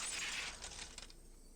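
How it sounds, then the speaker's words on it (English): Glass breaks in a Higurashi When They Cry video game effect, a bright crash of shattering window glass with tinkling fragments that fade within about a second. "What a great window shattering noise."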